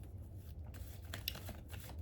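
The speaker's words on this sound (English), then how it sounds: "while I shuffle some affirmations for you guys" A deck of affirmation cards being shuffled by hand, a soft papery riffle and rustle heard close up in a short, steady burst with no talking.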